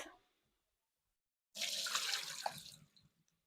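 Water poured off cooked sweet potatoes into a sink, a sudden close splashing gush that lasts about a second and a half and then trails off to a few drips.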